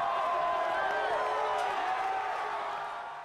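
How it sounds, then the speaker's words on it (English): During police horse public order training, a rowdy crowd shouts and jeers loudly in a sustained, roaring din with overlapping yells, easing slightly toward the end. "We have a rowdy crowd here."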